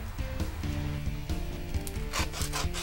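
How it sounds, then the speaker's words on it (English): A file rasps back and forth over the painted metal clutch pedal pin of a Pontiac Fiero in quick, rhythmic scraping strokes, close and steady with a slightly ringing tone. "Why is he filing the paint off that pin"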